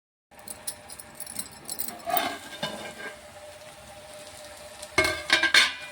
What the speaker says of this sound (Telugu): మంచిగా ఫ్రై అయిపోతున్నాయండి గుత్తి వంకాయలు అయితే